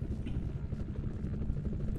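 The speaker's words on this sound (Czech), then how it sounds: "Vrtulník" A helicopter in the video game F.E.A.R. 2 drones with a low, throbbing rotor pulse. The rumble stays loud and close, holding a constant level through the short stretch.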